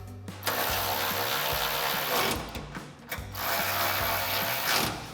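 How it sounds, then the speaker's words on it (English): Ratchet with a 13mm socket tightening exhaust hanger bolts on a Jeep Gladiator JT frame rail: close, rapid mechanical clicking in two bursts with a brief pause between, metallic and fairly loud. "we can tighten that down with our 13mm socket."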